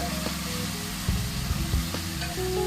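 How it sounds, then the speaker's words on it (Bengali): Chopped tomatoes are stirred into onions already frying in a pan for Bengali muri ghonto dal, giving a steady close sizzle with a few soft scrapes and knocks of the spoon and no talking. "টমেটো কুচিটা দিয়ে একটু নাড়াচাড়া করবো।"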